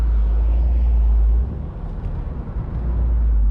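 A BMW Z3 with a 2.5 liter inline six gives a deep, steady low rumble heard close from the cabin, easing briefly before swelling again.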